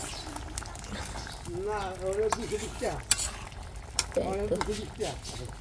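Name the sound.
cooking potatoes in a pan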